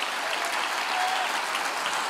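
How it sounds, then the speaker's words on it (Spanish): A church congregation at a Sunday devotional service claps steadily, a dense, even wash of applause with no voices over it. "Dale un aplauso bien fuerte al Rey bendito."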